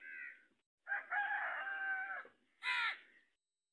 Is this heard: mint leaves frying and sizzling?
no